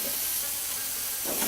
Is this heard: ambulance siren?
no